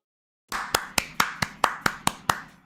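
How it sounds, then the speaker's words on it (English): One person claps hands eight times at an even, steady pace after a moment of silence, each clap sharp and close with a short room ring. No voices are heard. "started clapping on stream"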